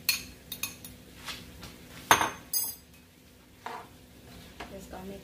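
Vegetarian beef and broccoli stir fry being mixed in a hot bowl with a utensil, giving sharp intermittent clinks and scrapes of metal against the bowl, one louder clatter mid-way, and a faint sizzle beneath.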